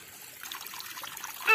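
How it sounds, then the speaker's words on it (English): Water trickles and dribbles softly in a park, a faint continuous splashing that grows busier partway through and stays steady without any voices. "I can think it's water."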